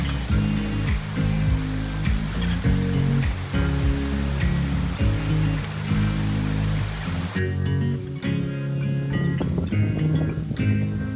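Steady rushing water of a mountain stream in Yankee Boy Basin, Colorado, pours and splashes continuously, loud and close, with a brief shift in tone partway through but no break in the flow.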